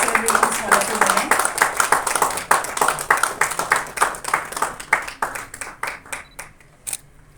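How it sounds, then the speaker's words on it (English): Audience applause at a formal ceremony honouring two women, a dense burst of many hands clapping that starts strong and thins out toward the end into a few scattered claps. "Can you give a big round of applause celebrations for the 2 women?"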